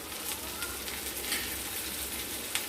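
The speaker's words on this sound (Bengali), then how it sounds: "1 চা চামচ রসুন বাটা দিয়ে এটাকে আমরা ভালো মতো করে কষে নেব।" Onion, ginger and garlic pastes frying in a pan while being stirred for Bengali egg pulao, a steady soft sizzle with light crackles and a faint scrape near the end, no voices.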